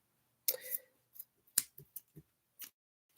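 Scissors snip through the top of a Dollar Tree sock just below the toes, a quiet series of sharp, separate cuts, about seven or eight close crisp clips spread unevenly over a few seconds.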